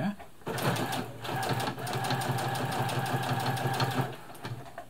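Brother Extra Tough sewing machine stitching through nine layers of fabric, a fast, steady mechanical chatter running close and loud for several seconds, with a voice talking over it.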